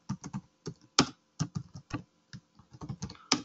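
Keys on a computer keyboard clatter in quick irregular bursts, close and crisp, with short pauses between runs of keystrokes and no voices.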